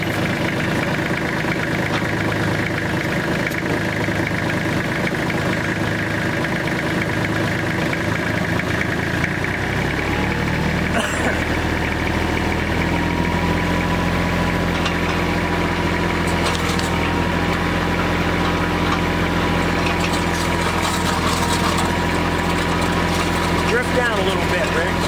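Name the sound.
auger truck engine running while digging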